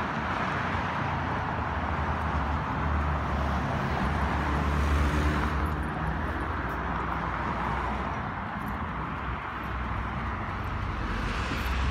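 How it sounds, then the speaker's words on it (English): A city bus travelling westbound along Lawrence Avenue West in midtown Toronto, passing as a loud, steady roadway rumble with a broad engine and tyre wash that swells and fades slightly over twelve seconds, with no speech. "There's a bus coming westbound."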